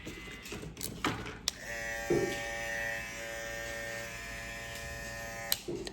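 Babyliss Pro FX One cordless hair clippers, limited edition, click on and settle into a steady close electric buzz, with a few handling knocks before and after the motor runs.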